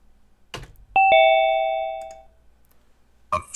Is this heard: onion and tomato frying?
no